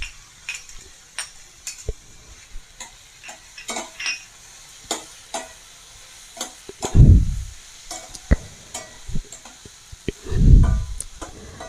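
A spoon stirs chopped half-boiled eggs frying in a pan, giving scattered scrapes and clinks with two heavier low thuds near the end, against a quiet sizzle.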